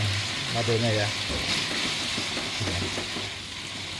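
Small eels already fried are stirred into a chili sambal in a pan, with a steady loud sizzle and scraping stirs throughout while someone speaks over the cooking.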